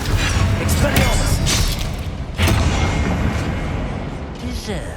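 An Expelliarmus spell effect in the video game Hogwarts Legacy lands as loud, booming magical blasts and thuds over dense combat noise, with a voice heard in the mix.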